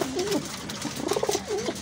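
Pigeons coo close by in soft, throaty, rolling phrases, two or three in quick succession.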